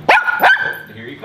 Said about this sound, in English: You should be quiet. You know you're barking.